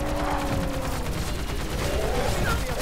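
Rapid gunfire in a video game, dense and continuous at close range throughout, with bursts running together like a fusillade.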